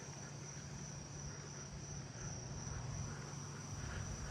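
A forest spotted or pine tree cricket calls outdoors at night in a neighbourhood, a faint, unbroken high trill holding steady throughout over soft background noise.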